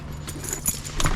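Keys jangle briefly in a vehicle cabin during a light-bar wiring install, a few short bright metallic clinks over a steady low hum.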